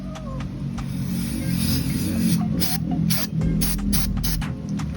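Chain cleaner sprayed onto the drive chain of a Yamaha Sniper 155R motorcycle, giving continuous hissy bursts close by over a steady low background rumble, with no talking.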